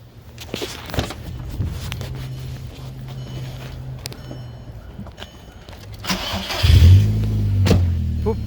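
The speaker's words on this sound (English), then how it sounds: "I'm about to start the car." A Volkswagen Jetta MK4 diesel engine starts up near the end, a loud low cranking surge that settles into a steady idle, preceded by quieter shuffling and handling noises inside the car.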